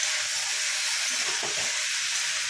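Mixed vegetables with a little salt sizzle steadily in a pan, a continuous close frying hiss with a few soft stirring scrapes in the middle, no voices.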